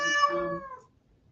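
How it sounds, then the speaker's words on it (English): A single cat lets out one clear, drawn-out meow, close and alone, fading out after about a second. "Is that cat? That's the cat."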